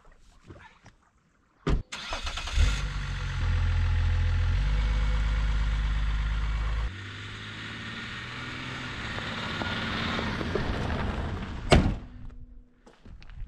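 A 2003 Range Rover with a BMW M57 TD6 diesel engine cranks and fires up with a thunk, then settles into a loud, steady diesel idle close by, the rumble dropping slightly partway through before a final clunk.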